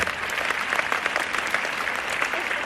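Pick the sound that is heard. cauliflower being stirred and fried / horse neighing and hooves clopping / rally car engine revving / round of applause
round of applause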